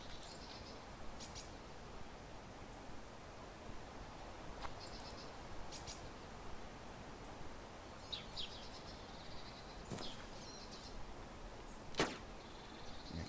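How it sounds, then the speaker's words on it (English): Two sharp, distant Mosin rifle gunshots in the video game DayZ crack a couple of seconds apart over a quiet, hissy background, with faint high chirps earlier on. "I can still hear that Mosin going off."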